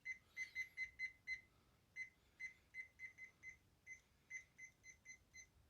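A small kitchen timer, set while a homemade pizza bakes in an oven at nearly 400 degrees, beeps faintly in quick, regular bursts of short electronic tones, heard alone with no voices.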